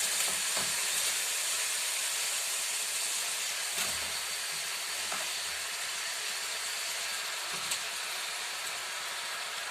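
Chicken sizzling after being dropped into a stew pot, a constant bright hiss with occasional soft pops and crackles throughout.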